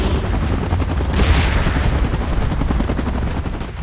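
An evacuation helicopter in the mobile game PUBG Mobile, during a Godzilla vs. Kong event, gives off a loud, steady, close rotor thumping with a rough, chopping rumble and no speech.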